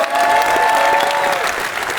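Studio audience applauding for Gosh's birthday on an Armenian TV show, dense loud clapping with some crowd cheering, sustained and close throughout.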